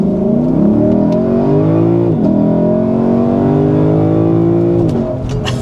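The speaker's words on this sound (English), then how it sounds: "And that was an acceleration up to 65 miles per hour in the Lexus LC500 convertible." A Lexus LC 500 convertible accelerating hard up to 65 mph, its engine note loud and steady and rising in pitch through the gears, with brief dips at each shift.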